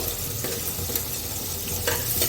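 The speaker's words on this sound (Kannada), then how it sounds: "ಇದಕ್ಕೆ ಫಸ್ಟ ಒಗ್ಗರಣೆ ಹಾಕೋಬೇಕು" Curry leaves, onion and dried red chilies sizzle in hot oil as tempering for idli sambar, a continuous close frying crackle with stirring scrapes and brief louder spatters.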